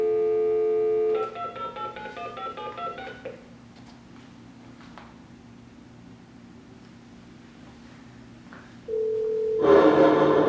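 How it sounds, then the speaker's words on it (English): A phone call is dialed to a handset sealed inside a lidded trash-can Faraday cage: a quick run of steady DTMF keypad tones, a long quiet stretch, then a ringback-style tone and a burst of loud noise near the end. "And we're going to call that phone right now."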